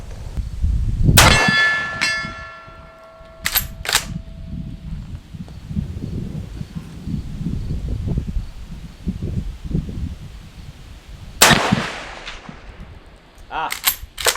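A rifle fires a 170 grain bullet in one loud, sharp crack near the start, with a ringing tail. Later, further metallic clanks and sharp hits are heard, with handling noise between them.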